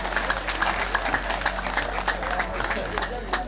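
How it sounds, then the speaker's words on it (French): Crowd at a camping-car owners' pardon festival claps loudly for announced guests, a busy, uneven patter of hands over a low steady hum, with murmuring voices mixed in. "On les applaudit bien fort."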